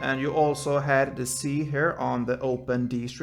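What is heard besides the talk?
No everyday noises stand out.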